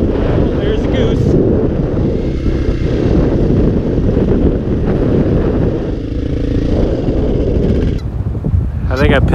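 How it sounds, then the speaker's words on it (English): Strong outdoor wind battering the microphone near water with geese around, a loud continuous roaring rumble throughout that eases slightly near the end. "It is windy down here"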